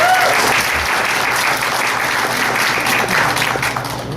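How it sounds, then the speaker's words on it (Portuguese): A church congregation at a Sunday service gives loud, dense applause that holds steady and then fades slightly toward the end. "Palmas para ele,"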